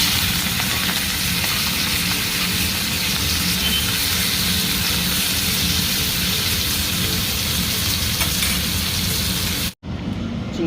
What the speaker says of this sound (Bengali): চিংড়ি মাছ কটা ভেজে নেব।